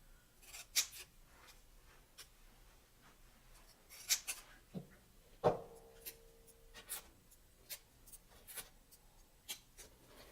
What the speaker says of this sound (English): I cut out the second call number label.